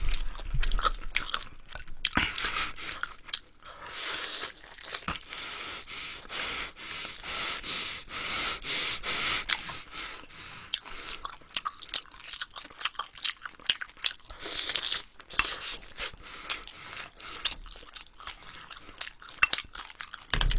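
Crunchy fried chicken with rice-cake and sausage skewers is eaten close to the microphone, giving repeated crisp bites and crunching chews with breathing between them and no talking.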